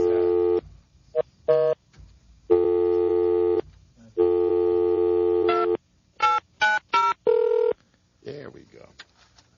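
Telephone keypad tones beep in a series, some long and some short, with gaps between them, followed by a brief voice.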